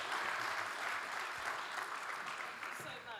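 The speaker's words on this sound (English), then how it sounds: "please join me in thanking the excellent panelists with a round of applause" Round of applause from the audience for panelists at an EU electricity grids policy discussion, a continuous moderate clapping that holds steady for a few seconds, with faint voices mixed in.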